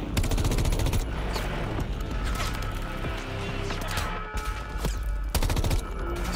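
Suppressed gunfire from a video game trailer, sharp muffled bursts of shots recurring over a loud, dense backdrop of music and effects, with clusters near the start and end.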